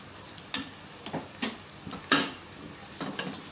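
Spices, garam masala and cumin roasting in a pan for a chicken and ridge gourd curry: a faint background sizzle broken by several sharp scrapes and clicks of a spoon against the pan at irregular intervals, with no talking.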